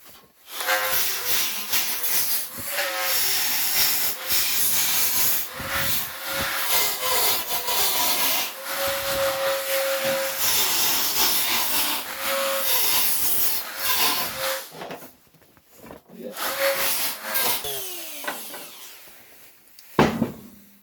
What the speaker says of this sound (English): I think I'll use the Dremel to do this because it'll be a thinner cut